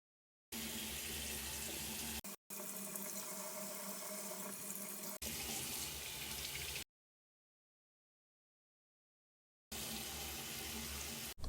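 Tap water gushes steadily into a sink to wash stitched fabric, in several loud, close bursts separated by abrupt cut-offs and a long silent gap, with no voices.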